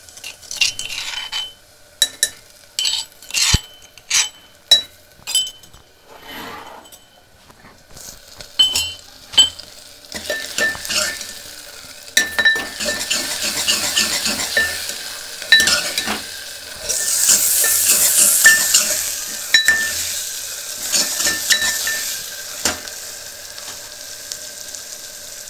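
Garlic tossed into hot oil in a pan after onions, sizzling steadily while a utensil scrapes and clinks against the metal, with the frying growing louder and hissier midway.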